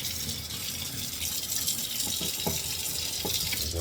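Water runs steadily from a tap into a sink, a continuous close splashing gush with slight fluctuations and no talk.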